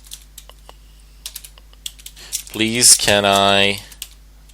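A few quick, light taps on a computer keyboard are heard up close, and then someone talks briefly over them.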